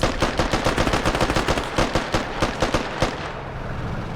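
Rapid automatic machine gun fire from a bipod-mounted weapon in the military shooter game Squad, a loud, close, evenly spaced burst of shots lasting several seconds before fading into a trailing echo.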